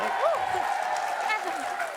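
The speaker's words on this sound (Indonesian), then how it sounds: "Kita kasih tepuk tangan" A television comedy show's studio audience applauds in a brief burst of clapping, heard under a person speaking over it.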